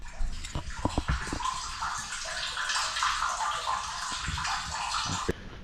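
Maple sap runs and trickles steadily during syrup making, a continuous watery rush with a few sharp knocks and drips at the start, close by and unbroken by speech.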